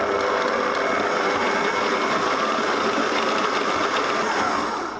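An electric stand mixer beats quark fresh cheese into an egg yolk cream for a lemon cheesecake, a loud steady motor whir with a buzzing rattle running continuously and close.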